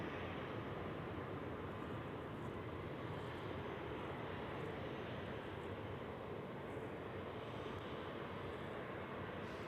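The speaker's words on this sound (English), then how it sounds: "here is the private jet, or business jet" A NetJets business jet at Zurich Airport gives off a faint, distant, steady engine roar that holds evenly throughout.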